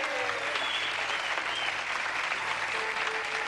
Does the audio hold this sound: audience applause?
yes